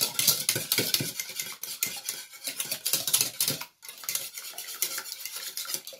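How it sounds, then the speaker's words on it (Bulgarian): Eggs beaten by hand in a bowl for a simple loaf cake, a rapid clinking, scraping rhythm of utensil against the bowl that runs continuously with one brief pause, close and fairly quiet. "И сега си разбиваме яйцата."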